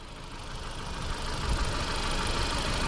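Under the hood of a 2026 Volkswagen Tiguan, its 2.0-liter turbo engine idles in a steady, close, mid-pitched hum that builds slightly in loudness, with no talking.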